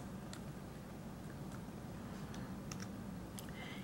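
Computer keyboard typing, a faint scatter of light key clicks at irregular spacing over a steady low background hum, with no voices.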